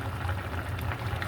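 A pot of water for French bean, chicken and potato soup boils at a steady rolling bubble, close and continuous with no voices.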